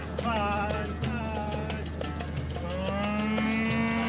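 Cattle being led slowly out of a pasture in South Dakota, several cows mooing in overlapping drawn-out calls, close and fairly loud over a steady low rumble.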